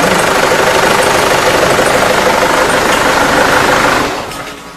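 A common rail diesel engine runs on a workshop training rig, giving a loud, steady, close mechanical clatter with an even hum. It holds for about four seconds and then drops away as the engine shuts down.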